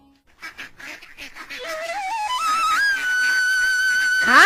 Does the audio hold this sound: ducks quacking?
yes